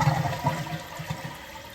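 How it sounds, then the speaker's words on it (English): A Kohler toilet flushes fully after a fill valve replacement, a steady close rush of swirling water filling the short moment on its own. "We're gonna flush it all the way this time."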